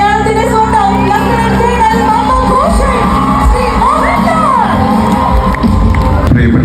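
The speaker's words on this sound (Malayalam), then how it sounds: "വേദിയിലേക്ക് നമുക്ക് നിറഞ്ഞ കൈയടിയോടെ സ്വാഗതം ചെയ്യാം." A large crowd at the Manorama Hortus stage event cheers and whoops as actor Mohanlal is welcomed onstage, a loud, continuous roar of voices with children's shouts mixed in, sustained for the whole stretch.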